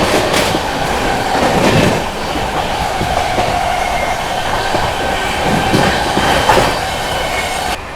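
Sampoorna Kranti Express 12393 overtaking the Marudhar Express, heard from on board as a steady, loud rail rumble with rhythmic wheel clatter and faint squeals, no voices.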